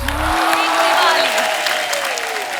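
Loud studio audience applause greets Ajay Devgn as he walks onto the stage of the Kapil Sharma Show's Diwali comedy episode, a dense, steady wash of clapping with a sustained vocal tone riding over the start.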